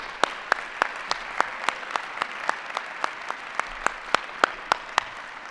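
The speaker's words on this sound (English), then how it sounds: "Please join me in a round of applause for this great honor and accomplishment." Scattered, evenly spaced claps ring out at a fall 2019 college commencement for the Robertson School of Media and Culture, sounding like a few nearby hands clapping steadily over a soft room background rather than a full crowd.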